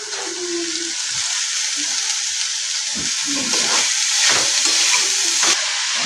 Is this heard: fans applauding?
no